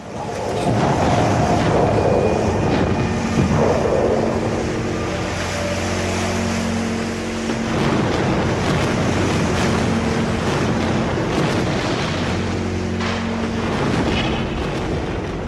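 Flood water rushes downriver toward Hoover Dam, a loud, continuous roar of churning water and wind-like turbulence that swells and eases slightly over the span, with no voices.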